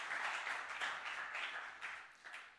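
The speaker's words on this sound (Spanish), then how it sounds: "Give a big round of applause to God." A church congregation applauds during a sermon, a soft, distant wash of many hands clapping that swells in waves and gradually thins toward the end.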